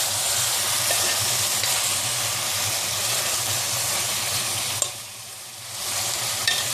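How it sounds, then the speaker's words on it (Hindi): Capsicum and peas fry in a pan for a mixed vegetable curry, making a loud, continuous sizzle with stirring that eases briefly near the end before it swells again. "दो तीन मिनट तक हमने इसको फ्राई करना है।"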